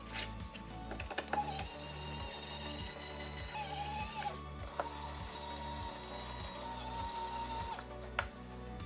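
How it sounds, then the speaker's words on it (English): Screws are driven in to secure the display hinges of a homemade Commodore 64 laptop case, a close, regular series of ratcheting clicks from a screwdriver repeating about a dozen times. "I drop the display into its slots in the main case and secure the hinges with 8 screws."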